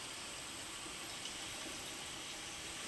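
Gasoline poured into the tank of a Husqvarna lawnmower, a steady continuous liquid stream with no breaks, fairly quiet and close, no talking.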